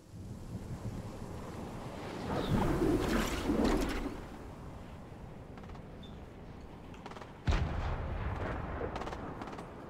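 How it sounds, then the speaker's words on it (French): A grenade explodes in a video game with a deep, rumbling boom, followed a few seconds later by a second sharp blast, against a faint windy background. "je mets une grenade"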